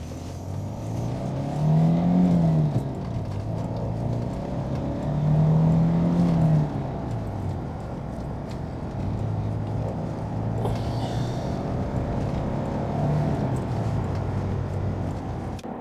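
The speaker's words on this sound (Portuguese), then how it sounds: "É um motor bem áspero." The rough, gravelly engine of a Citroën CX Turbo 2 Prestige drones steadily while driving, its pitch climbing and easing through several gear pulls, with a constant road roar underneath.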